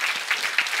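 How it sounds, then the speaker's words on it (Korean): A church congregation applauds warmly, a dense burst of clapping from many hands filling the room throughout, loud and close. "우리 한번 뜨겁게 박수 한번 하십시다"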